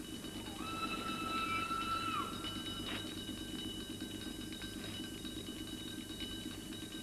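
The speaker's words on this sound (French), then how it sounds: "Le train doit être tout près." An approaching train on a railway line in a 1954 French film, heard as a faint, low rumbling under a high, sustained whistle-like tone, without speech.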